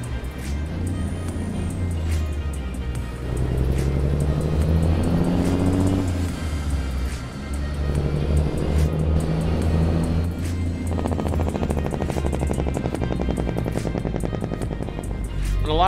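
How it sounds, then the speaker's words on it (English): A deep, rumbling truck engine in American Truck Simulator idles and revs in surges, the throaty motor drone rising and falling loudly throughout with no talking. "Got great engine sounds right off the bat."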